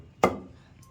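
A single heavy thud of a stone pestle striking tomato chutney in a stone mortar, close and sharp with a quick decay, followed by a faint softer knock.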